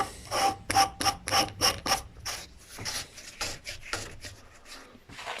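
Rotary nozzle part of a Kärcher pressure washer being screwed back in by hand, a close rasping, ratcheting scrape in repeated strokes, strongest at first then softening, with no talking.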